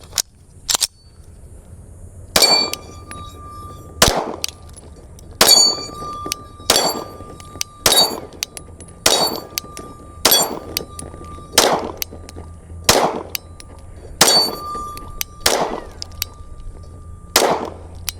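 A PSA Compact Dagger pistol, a budget Glock clone, fires about a dozen sharp shots in an uneven quick cadence, many followed by a ringing metallic ping from steel targets, loud and close.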